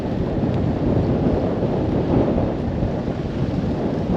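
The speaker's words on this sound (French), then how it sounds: "il y a un vent de dingue en plus" Steady, roaring strong wind buffets the microphone during a gravel bike ride, with dense low rumble and no pauses, loud and continuous throughout.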